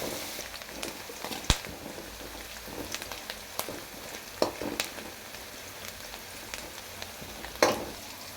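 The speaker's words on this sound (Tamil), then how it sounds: "இது நல்லா பொன்னிறமாக வதங்கட்டும்." Two big onions, finely chopped, sauté in hot oil with garlic, giving a soft, continuous sizzle with occasional louder crackles and spatters.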